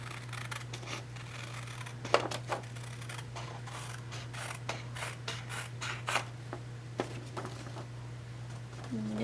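Scissors snip through paper in a journal, a run of quick, close crisp cuts and rasps at irregular intervals over a steady low hum.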